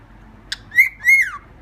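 A pet cockatiel gives a short chirp followed by two rising, drawn-out whistled calls, clear and close over a quiet room.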